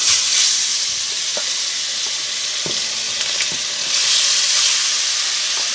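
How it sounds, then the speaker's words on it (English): Chicken pieces sizzling and frying in hot oil in a pot for Jamaican stew chicken, a loud continuous crackling hiss with faint stirring clinks and brief surges of spitting oil. "All I'm doing right now is adding the chicken"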